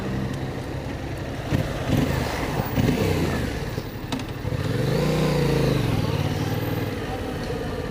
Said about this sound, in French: un bicylindre avec un pot d'origine ça fait vraiment pas de bruit